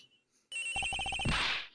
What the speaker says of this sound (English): This has got to be the victim's cell phone.